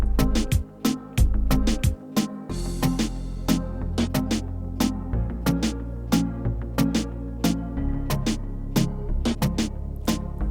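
A hip-hop style beat section with the kick removed, a rearranged snare pattern and a synth bass back under it, sharp snare hits in a steady loop over sustained low bass, loud and up close with no voices.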